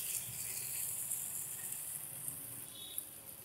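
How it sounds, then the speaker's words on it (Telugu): Ingredients frying in hot oil for a pot biryani, a steady, quiet sizzle with faint crackles and occasional small pops, heard alone without talk. "ఇవి కొంచెం దోరగా వేగనిద్దాం."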